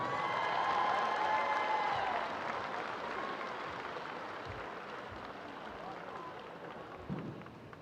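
Crowd applause at a college gymnastics meet between ASU, LSU and OSU, honoring the top vault performers; a dense, steady wash of clapping fills the arena, loudest early and gradually thinning, with a faint tone and crowd murmur beneath.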